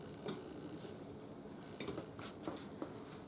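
Kitchen clatter as a fork, plates and a big spoon are gathered: scattered light clinks and taps of cutlery and dishes over a low background hum, fairly faint and irregular, with no talk.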